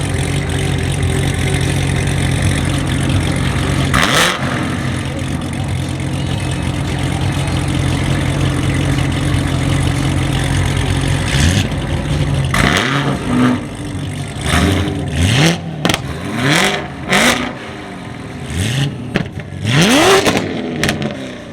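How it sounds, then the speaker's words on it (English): Nissan Skyline GT-R R33 and R35 engines idle with a deep steady rumble, then several sharp revs burst out in quick succession, rising and falling nearby. "They're on and they're both extremely loud and idle."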